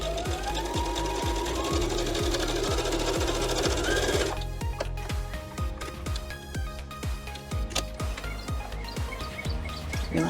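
A sewing machine stitches fabric seams with a fast, steady mechanical rattle of needle strokes, close and clear, slowing into more spaced, irregular stitching partway through.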